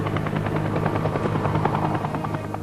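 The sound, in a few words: helicopter passing overhead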